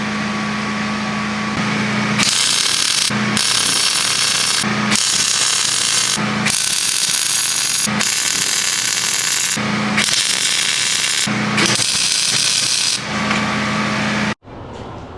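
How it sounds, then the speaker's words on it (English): Welding a steel yoke onto the bottom of a steering shaft for a custom 50 HP Power Wheels build, a loud continuous crackling buzz in several long bursts separated by short pauses, ending abruptly. "I'm going to weld these on the bottom of that shaft"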